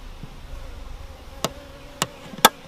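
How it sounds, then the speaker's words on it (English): Honey bees in a newly made double nucleus colony hive give a faint close buzzing drone, broken by a few sharp clicks or taps, with no talking. "You can see lots of bees there."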